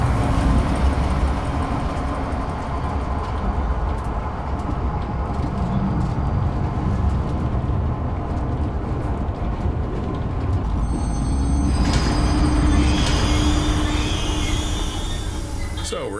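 A train in the video game Zoochosis starts and runs, giving a loud, continuous rumble and rattle that holds steady throughout, with a brighter metallic screech rising near the end.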